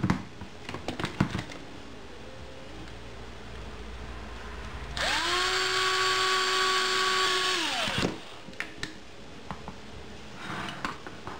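Mechanical fuel pump being taken apart, a sustained whirring power-tool burst of about three seconds at close range, framed by scattered clicks and handling knocks.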